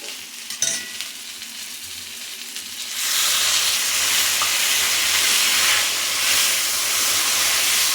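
Boiled peas hit a pan of frying potato and pointed gourd, setting off a sudden loud, steady hissing sizzle that carries on with faint stirring scrapes after some quieter clatter at the start.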